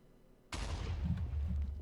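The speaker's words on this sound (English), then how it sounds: "An explosion underwater, and normally this isn't possible" Minecraft TNT detonating underwater: a sudden loud boom after a short quiet lead-in, followed by a sustained low rumbling roar that holds to the end.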